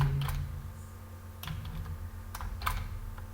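Someone types SQL values on a computer keyboard, with short bursts of close, crisp key clicks separated by brief pauses.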